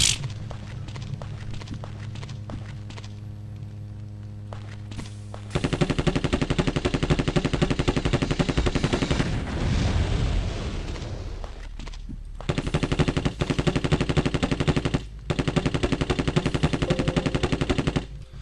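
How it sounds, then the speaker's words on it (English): Rapid automatic gunfire from a weapon in the video game The Terminator: Future Shock, loud sustained bursts with brief pauses between them over a steady game backdrop, no voices. "I do like the fact that this gun does not have recoil."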